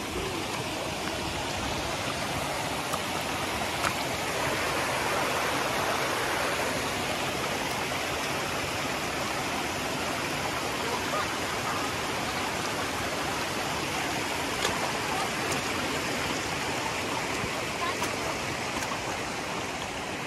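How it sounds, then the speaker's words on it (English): Mountain water rushes steadily down a stream on Ben Nevis, a loud, continuous broadband roar of falling and tumbling water, close and unbroken throughout. "Look at the water up there, guys."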